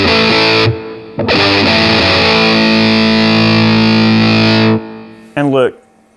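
Electric guitar through heavy fuzz distortion into a 1960s Gibson Minuteman amp, thick sustained chords ringing out loud, with a short gap and a brief final strummed burst.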